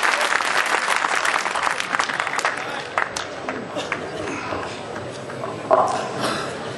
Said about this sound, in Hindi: आप सबकी जोरदार तालियों की गड़गड़ाहट